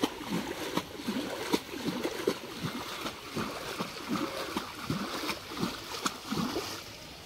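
Pond water running toward an overflow outlet, splashing and gurgling in a steady, moderately close stream with small repeated splashes throughout.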